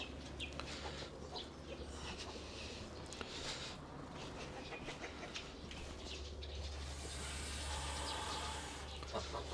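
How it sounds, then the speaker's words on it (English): Chickens cluck faintly in the background amid a steady low hum and broad noise, with scattered bird calls throughout. "Got another broody hen in there that she's sitting on the eggs"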